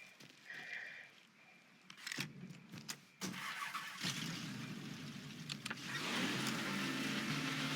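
A car engine in the video game Mafia 3 starts with a mechanical clunk, then revs up and the drive builds into a steady rising road roar with engine noise, close and growing louder, with no talk.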